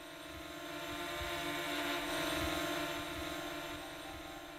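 A sustained droning tone for film sound design, real sounds layered with music elements into a steady hum with stacked harmonics that swells slightly mid-way and holds, with no voices.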